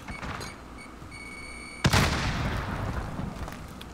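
A frag grenade detonates in Call of Duty Warzone as one sharp, loud boom, followed by a rumbling tail that fades slowly. Game ambience and faint tones sit quietly underneath.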